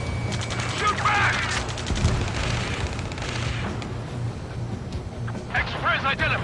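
Battle gunfire in the Ace Combat 7 video game, steady bursts of shots running under shouted radio chatter and voices throughout.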